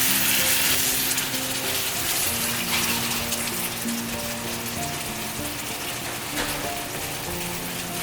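Spicy Korean pork (jeyuk bokkeum) stir-frying in a pan gives a continuous close sizzle with a faint mechanical hum underneath, steady and unbroken for about eight seconds with no voices.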